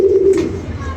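A pigeon coos once, close and clear, a single low drawn-out call over a soft background murmur.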